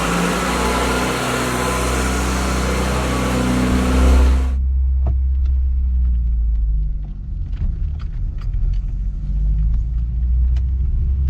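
A Mk1 VW Golf lowered on cut coil springs drives on a test run: a loud, deep engine and road rumble fills the first few seconds, then drops to a steadier low drone with scattered small ticks and rattles.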